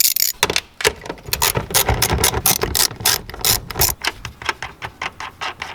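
A socket ratchet loosens a car's tail light bolt, giving close, rapid bursts of sharp pawl clicks in a steady rhythm, with no voices.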